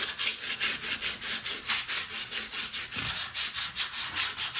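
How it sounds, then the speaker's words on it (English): Sandpaper is rubbed back and forth along a wooden skirting board in quick, even strokes, a close, rhythmic scratching hiss repeating about four times a second with no one speaking. "Got to clean all the skirting board first, give it a bit of a sand, and then start painting."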